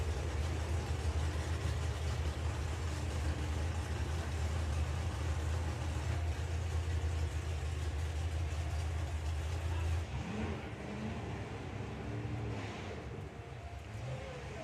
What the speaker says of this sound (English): totally new engine combination he's running in there. Giving him a bit of grief by the sound of it